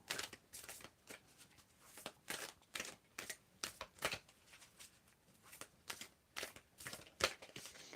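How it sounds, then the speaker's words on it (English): Tarot oracle cards are shuffled by hand in a steady run of quick, papery riffles and soft slaps that repeat for several seconds. The sound is close and fairly quiet, with no talk. "I'm going to get shuffling, and just tell me when to stop shuffling"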